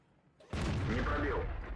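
A sudden loud armor-piercing shell blast in a tank video game fires after a quiet moment and rolls into a sustained booming tail.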